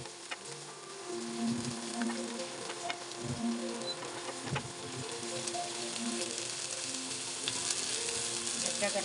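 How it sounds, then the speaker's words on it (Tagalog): Onion, garlic and ginger fry in oil for a fish adobo with eggplant, giving a steady, close sizzle with small crackles and pops throughout, with no talking. "Dagdagan pa po natin ang oil para mailisan natin ng maayos ang ating sibuyas, bawang at luya."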